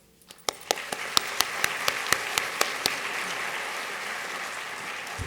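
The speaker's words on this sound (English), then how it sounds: "let's take a moment to applaud a decade of growth, success, and making a real difference" Applause at an awards ceremony begins with a handful of sharp, distinct claps that quickly swell into steady, sustained clapping from an audience filling the room.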